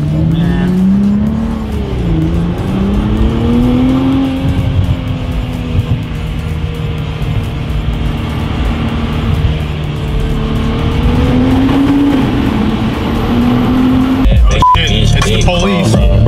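A Nissan GT-R NISMO drives through a tunnel, its engine a loud, close, continuous drone that rises and falls gently in pitch, with a sharp click near the end.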